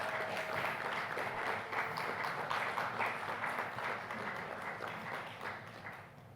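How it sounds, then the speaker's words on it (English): Audience at a pre-budget business breakfast meeting giving sustained applause, a dense, even wash of many hands clapping that fades slightly at the end, with no speech. "With a round of applause, let's welcome her on stage."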